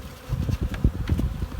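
Honey bees in a hive colony with a brood chamber buzz in a dense, low, steady drone, close up, with a few slightly louder individual buzzes rising over the hum.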